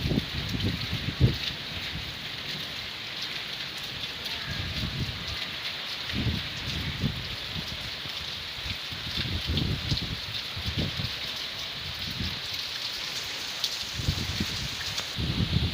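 Rain falls steadily on a village, a constant hiss of drops with occasional low thuds and gusts, moderately loud and continuous with no talking.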